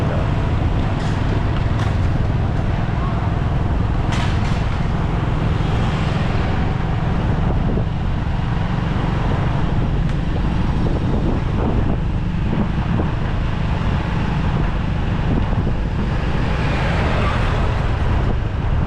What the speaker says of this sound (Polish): To jest główna ulica Riverside, tutaj zawsze największy jest ruch